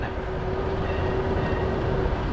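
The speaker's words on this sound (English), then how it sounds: "Streetcar's coming." A Seattle streetcar approaches with a steady, loud rolling rumble and a faint sustained tone throughout, no voices over it.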